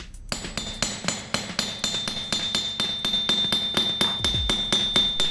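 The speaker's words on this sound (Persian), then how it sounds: "باید ضربات چکش به صورت کاملا متوالی و هم پیوسته در کنار همدیگه منظم زده بشه تا یک نواخت و کاملا یک دست در بیاد مفتول گردمون" Steady hammer blows strike metal wire being rounded for a handmade bangle bracelet with nautical knots, about four sharp ringing taps per second in an even, continuous rhythm, close and alone.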